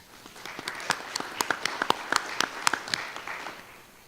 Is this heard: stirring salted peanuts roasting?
no